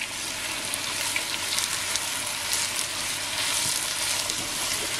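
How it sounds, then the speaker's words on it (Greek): Onions sautéing in a pan with meat give off a steady, loud sizzle and crackle, with occasional stirring scrapes and no voices. "Σοτάρουμε τα κρεμμύδια πάρα πολύ καλά."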